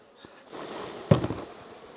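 A low buzzing swarm of bees swells up, with a sudden thump and rattle partway through as they are shaken loose.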